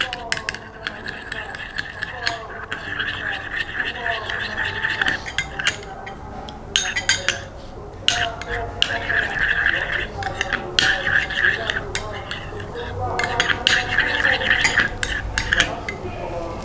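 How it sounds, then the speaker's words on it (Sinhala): A spoon stirs beetroot juice into a homemade skin serum, giving repeated light clinks and scrapes against the container in an irregular rhythm, with a voice talking at times. "ඊට පස්සේ හොඳට කලවම් කරගන්න අය."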